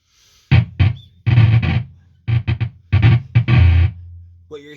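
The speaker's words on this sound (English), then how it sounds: "What you're hearing there is me just like kind of rubbing the strings" Guitar strings rubbed through a prototype square-wave distortion pedal, the SQR ONE, with modular synth: short, loud bursts of buzzy, gated distortion in uneven pulses separated by silences, then a brief higher tone at the end.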